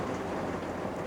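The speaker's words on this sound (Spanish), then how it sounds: "Y está lloviendo." Steady rain falling outdoors during a religious gathering, a dense even hiss of drops with no pauses, moderately loud and uninterrupted by any voice.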